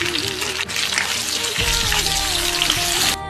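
Chopped onions, green chillies, tomatoes and vegetables sizzle in hot oil in a pan, a steady loud crackling hiss with a few clattering stirs and no talk.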